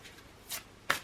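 Tarot cards being shuffled and drawn, two or three short quiet riffling swishes close by, the last one sharpest, with no speech.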